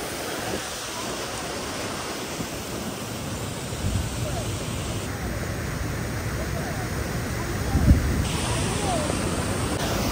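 Steady, loud rush of river water roaring close by, pounding with pressure against the rock underfoot, a constant broadband wash with a few brief thumps, no voices.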